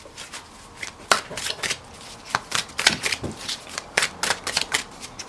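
A deck of tarot cards being shuffled by hand, a series of crisp riffling and slapping bursts in an irregular rhythm, close and fairly loud with no talking.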